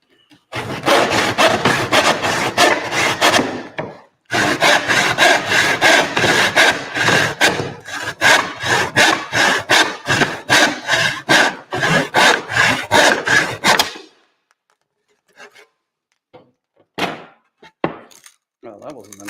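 Hand sawing through wood indoors over carpet, close and loud, with rapid rhythmic back-and-forth strokes in two long bursts separated by a brief pause, then a few scattered knocks and scrapes as it trails off.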